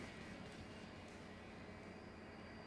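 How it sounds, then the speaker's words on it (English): Train escape in a bow-and-arrow action video game, a steady dense rumble and rushing noise of a moving train running continuously without breaks, with no talking. "Let's end off this chapter, escaping on a train."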